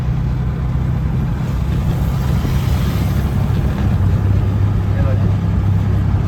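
Road traffic of cars jammed near Mumbra Devi after an overturned vehicle, a continuous low rumble of idling and creeping engines close by, a heavy steady drone throughout.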